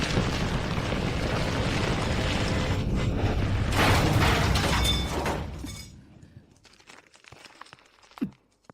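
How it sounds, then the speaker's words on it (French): An explosion in a dramatic scene, a long, loud rumbling roar with clattering debris that runs for several seconds before fading into quieter rustles and a final thud. "Pourquoi y a-t-il une explosion?"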